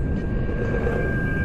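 A spaceship's engine powering up in the space survival game Empyrion Galactic Survival, a loud, steady droning roar with a sustained high whine, held evenly throughout with no talk over it.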